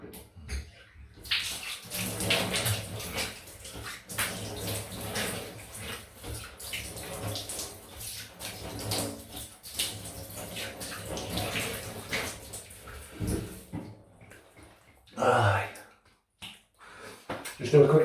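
Running water splashes as a face is rinsed off after a shave with a Muhle R41 safety razor, a continuous soft hiss of tap water and splashing, fairly quiet, with louder splashes near the end.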